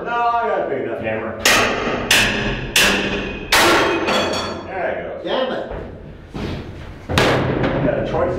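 Heavy hammer blows fall during generator frame and engine room installation work, about seven loud, sharp strikes spaced a second or so apart, each ringing briefly, with people talking between the hits.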